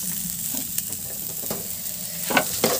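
Small mangoes cooking in a pan for chutney sizzle softly and steadily. A few sharper scrapes and clicks from stirring break in, the loudest near the end.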